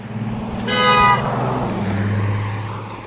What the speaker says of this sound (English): Passerby giving me a honk.